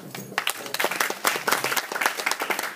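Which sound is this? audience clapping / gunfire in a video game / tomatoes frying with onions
audience clapping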